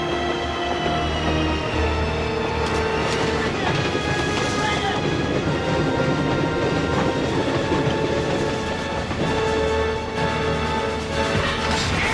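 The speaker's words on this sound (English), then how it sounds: "we're going to give Mr. Seeger there a chance to stop that train" A runaway train barrels along the rails with a loud, continuous roar of clattering wheels, screeching metal and rushing wind, heavy and close throughout, with a voice speaking over it.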